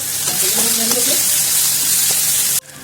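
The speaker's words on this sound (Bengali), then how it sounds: "পেঁয়াজগুলোকে আমরা ভেজে নিচ্ছি ভালো করে" Sliced onions and green chillies frying in oil for a Bengali fish kalia, giving a loud, close, continuous sizzle with a few brief tonal clinks, cut off abruptly near the end.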